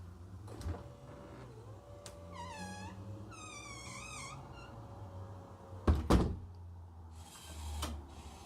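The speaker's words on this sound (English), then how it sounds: "the door closes for me." Motorized smart door closing from a push-button switch: a low motor whir lasting several seconds, cat meows over it, then a firm thunk as the door shuts and another knock after.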